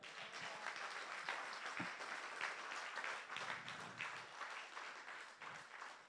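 A church congregation applauds in praise during an evangelist's sermon. The clapping is dense and continuous, heard from a distance at a fairly low level, with faint voices mixed into the crowd noise.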